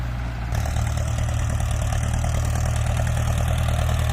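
A heavy diesel tractor engine rumbles steadily at close range while plowing a rice field, its low throbbing drone kicking up louder after a brief quieter start and holding constant.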